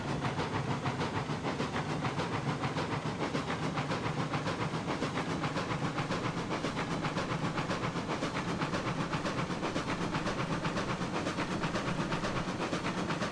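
A steam locomotive in the video game Railroads Online hauls a long string of cars loaded with lumber and beams, giving a steady rhythmic chuffing with hiss that holds evenly throughout, no voices.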